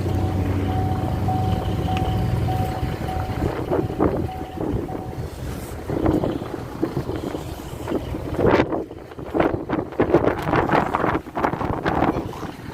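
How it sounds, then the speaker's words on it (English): Strong wind blows across an outdoor speedway lot at night, buffeting the microphone with a low rumble and heavy irregular gusts that grow rougher and louder toward the end. "See that wind? See all that dust?"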